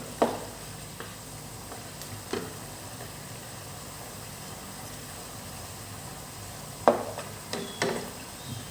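Pork tail stir-frying with shrimp paste in a pan, a faint steady sizzle with a few sharp clinks of a utensil against the pan, the loudest around the end.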